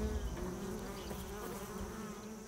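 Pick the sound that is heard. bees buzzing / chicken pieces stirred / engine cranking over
bees buzzing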